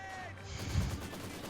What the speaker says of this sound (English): Machine gun fire there from the opposite side, and mortar fire, landing here and there